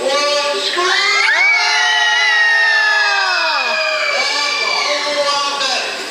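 Children scream together on Merlin's Challenge ride at Legoland Florida, a loud sustained chorus of high voices that swells, wavers and fades over several seconds.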